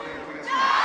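Esports crowd at an MSI 2026 upper bracket final between Bilibili Gaming and Hanwha, cheering and chanting in a large arena, the roar swelling louder in the second half of the brief moment.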